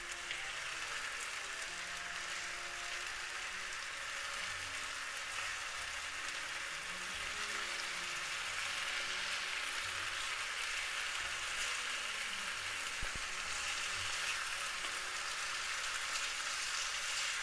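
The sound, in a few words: beef and onion frying in a pan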